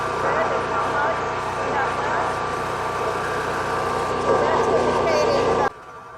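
A portable gas generator runs as a loud, steady engine drone for several seconds, then drops off sharply near the end.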